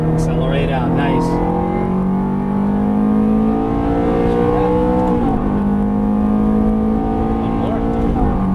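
A Ferrari F430 on track pulls out of a corner under full throttle, its engine roaring loud and near with climbing tones and short breaks at the shifts. A driving coach speaks over it.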